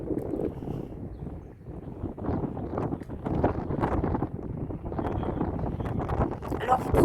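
Wind gusts buffet the microphone on the jetty at Gruissan by the sea, a continuous low rumbling roar that swells and eases over several seconds, close and steady.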